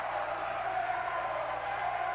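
Basketball crowd in a college gym reacting to a missed three-pointer that goes out of bounds, a steady diffuse murmur of many voices, fairly loud and even throughout.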